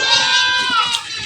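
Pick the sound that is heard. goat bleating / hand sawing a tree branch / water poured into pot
goat bleating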